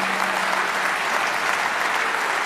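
Dense, continuous applause from the audience at the Mirabelle Queen election in Metz, a full room clapping steadily without a break.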